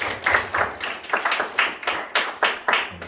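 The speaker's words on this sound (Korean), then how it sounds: "우리 박수 보내줍시다." Sparse clapping from a small audience, about a dozen distinct claps at a slow, uneven rhythm, fairly close and moderately loud with no voices over it.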